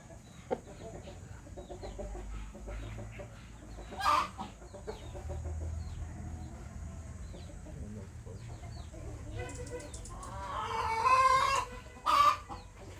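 Large, tall, broad-bodied roosters cluck and call close by in a farmyard, with a few sharp louder squawks and a brief crowing burst near the end over steady background noise.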